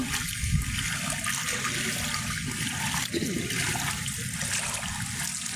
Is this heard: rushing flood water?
yes